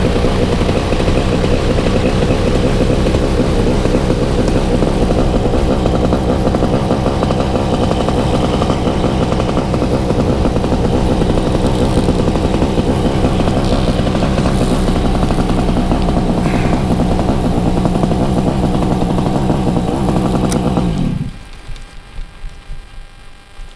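A Tornado 280 XC model aircraft engine running at high RPM, a loud, steady buzzing drone that holds for about twenty seconds and then suddenly cuts off, with no speech.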